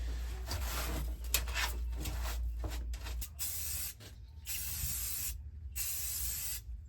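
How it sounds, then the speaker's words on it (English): An aerosol can sprays onto a spot on a hot rod's floor in several hissing bursts separated by short pauses, close and fairly loud. "Since I did decide to spray that little spot on the floor"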